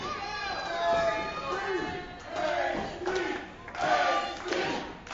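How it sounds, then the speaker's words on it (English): A wrestling crowd at an IWC event shouts and yells in surges, loud and dense, with raised voices swelling and falling over several seconds. "And listen to this crowd."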